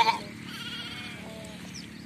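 Sheep on a farm bleat faintly in a brief call or two, set against quiet outdoor background noise.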